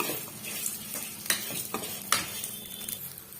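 Brinjal and dal sautéing in a pan for chutney, with a soft continuous sizzle and sharp scraping stirs of a spoon against the pan, alone without speech.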